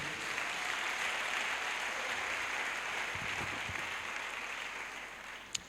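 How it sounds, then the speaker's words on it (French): A church congregation applauds for Jesus Christ during a testimony service, a steady, dense wash of clapping that fills the room throughout with no pauses. "acclamons pour le Seigneur Jésus-Christ"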